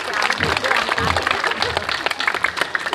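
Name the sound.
applause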